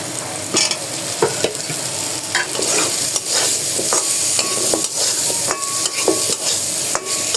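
Spice masala with hog plums stir-fried in a pan for a hilsa curry, a steady loud sizzle with repeated scraping and clacking of a stirring spoon, close up and continuous.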